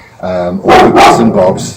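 Dogs bark a few times nearby, loud and close, mixed with someone talking.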